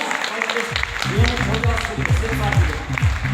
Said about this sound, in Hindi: जोरदार ताली बजाइए जिन्होंने नोनी वीडियो को बनाया।